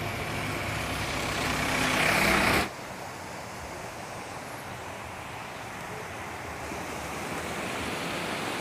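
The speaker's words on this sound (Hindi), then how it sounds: "छोटी सी झरना" A small waterfall along a hill road between Siliguri and Kurseong gives a steady broadband rush of falling water, loud at first and then slightly softer and more distant.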